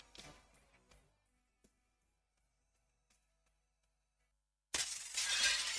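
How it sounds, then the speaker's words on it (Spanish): Loud shattering burst of car window glass breaking, used as a sound effect in a radio advertisement, crashing in abruptly after near silence and a few faint taps and lasting about a second. "¿Rompiste el cristal de tu auto?"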